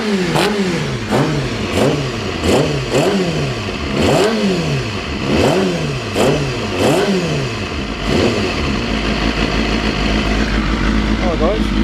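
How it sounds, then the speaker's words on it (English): A Honda CBR250RR motorcycle engine revs repeatedly in rising and falling sweeps with a deep exhaust rumble, loud and close, settling toward a steady idle near the end. "the exhaust tone is just that bump, bump, bump, bump rumble"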